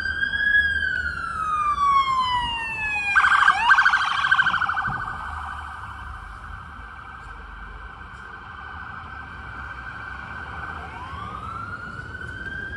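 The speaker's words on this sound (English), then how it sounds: "we'll wait till the ambulance goes by" An ambulance siren passing on a New York City street, loud wailing tones sweeping down and then holding steady, with a brief burst of yelping, over low traffic rumble.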